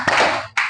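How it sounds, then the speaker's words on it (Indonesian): A class of students clap their hands together in two quick bursts, the first a loud, sustained group clap that trails off, followed by a second sharp clap shortly after. "Tepuk tangan 2 kali."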